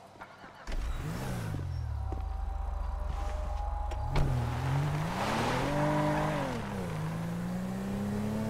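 Car driving in GTA 5, engine droning and rising in pitch as it accelerates, with gear shifts and a brief tire squeal, running continuously and close for several seconds.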